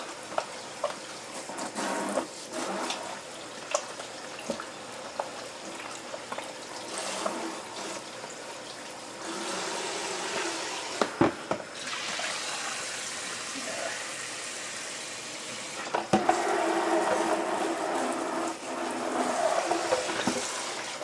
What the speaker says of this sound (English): I'm going to rinse this bucket out so that it is clean.